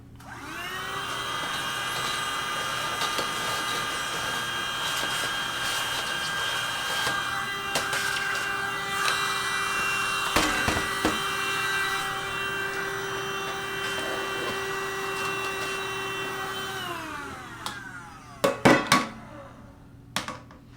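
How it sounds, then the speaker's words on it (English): A vacuum cleaner sucks dust out of a disassembled Xbox 360 console with a steady, loud whine that holds for most of the clip. It then spins down, followed by a few sharp knocks and clatters near the end. "I'm going to vacuum it one more time."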